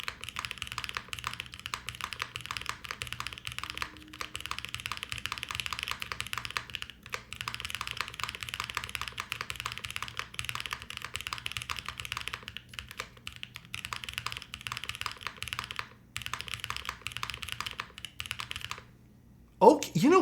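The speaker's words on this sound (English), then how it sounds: "The spacebar's kind of growing on me the more that I click it" Steady mechanical keystrokes clatter on a Transition TKL tenkeyless keyboard, continuous and close, with occasional heavier spacebar clicks and a brief pause near the end.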